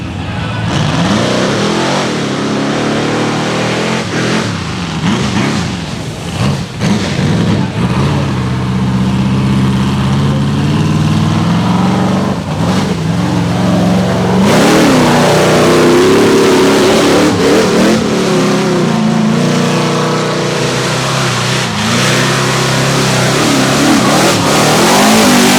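SRRS rock bouncer off-road buggies revving hard up Disney Bounty Hill, loud aggressive engine bursts surging and dropping repeatedly, with crowd noise and occasional voices underneath.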